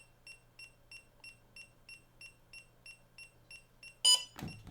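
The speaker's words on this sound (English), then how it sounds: "press and hold the power button until it starts beeping" A DJI Avata 2 drone in linking mode gives a regular series of short, high electronic beeps, about three per second, faint and alone, ending with a brief loud rustle or handling bump.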